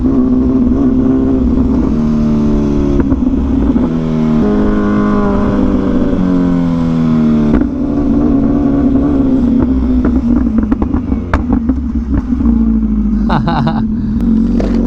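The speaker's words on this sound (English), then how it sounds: "This bike sounds insane." An Italian motorcycle engine revs loudly and steadily while being ridden, its pitch rising and falling through gear changes with strong harmonic tones throughout, close and continuous.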